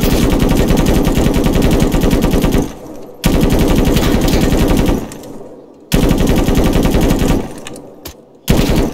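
Heavy machine gun fire in the video game ArmA, loud sustained bursts of rapid shots, three long volleys separated by brief pauses, with a short burst starting at the end.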